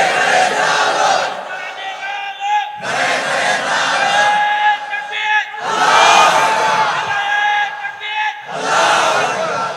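A large crowd at a religious gathering shouts the takbir in loud, unified bursts, four surging waves of massed voices separated by brief quiet gaps, close and powerful.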